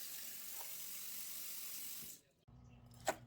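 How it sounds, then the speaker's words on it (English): Sliced bok choy is rinsed under a running kitchen tap, a steady close hiss of flowing water that shuts off after about two seconds, followed by a brief clunk. "So even though I washed this prior to actually slicing it, I'm going to give it a really good rinse again."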